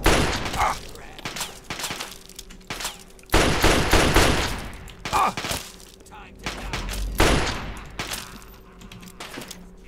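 Gunfire in Fallout 3 in the Springvale area, heavy bursts of shots crack out in several clusters, loud and close, with someone speaking in between.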